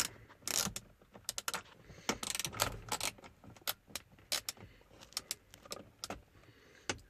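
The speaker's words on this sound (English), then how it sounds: "Take these screws out." 7mm screws being removed from the radio dash panel of a 2006 Chevrolet HHR, with quiet scattered ratcheting clicks, taps and rattles in irregular bursts, close by and faint.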